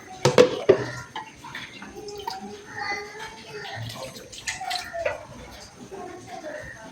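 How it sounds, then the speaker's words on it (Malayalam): Water poured onto grated coconut in a kitchen pot while preparing a ground coconut paste for a pineapple curry, opening with a couple of sharp metal clinks and followed by a steady splashing trickle, with a person talking over it. "കുറച്ച് വെള്ളം ഒഴിച്ചു"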